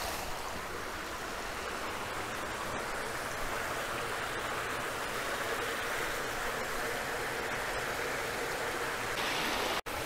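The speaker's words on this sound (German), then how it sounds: "dass dieser Wasserfall hier noch cooler ist als der von gestern" Steady, loud rush of a mountain waterfall on Koh Samui, a continuous broadband roar of falling water filling the whole stretch with no talk, cutting off abruptly at the very end.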